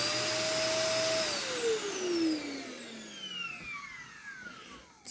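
A Shark vacuum cleaner, missing its wand, runs with a loud, strained motor whine that sounds clogged, then its pitch slides steadily downward as the motor winds down near the microphone.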